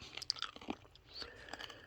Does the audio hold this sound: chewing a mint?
yes